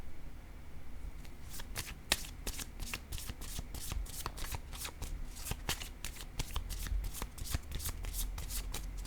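Tarot cards shuffled by hand, a fast run of crisp riffling flicks that goes on steadily at close range, with no voices.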